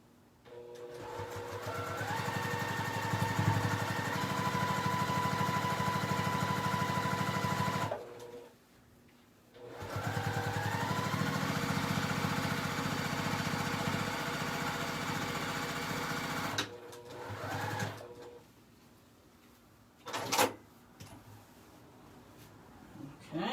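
A sewing machine stitches steadily through many layers of a diaper bag, running in long continuous bursts with pauses and brief stops between runs, up close and with no talking.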